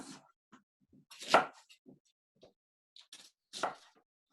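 A knife chops through peach flesh on a cutting board while soup is being prepared, giving a few sharp, separate strikes with quiet gaps between them, close and fairly loud.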